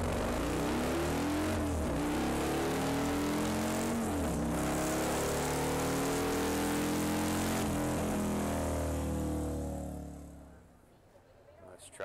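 A 2019 model-year Harley-Davidson touring motorcycle exhaust played through a demo at a dealer meeting, revved hard with rising and falling engine tones for about ten seconds before fading out.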